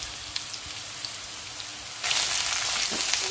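Cauliflower wings frying in a coating of oil in a pan, a steady crackling sizzle that swells louder and brighter partway through, with no voices.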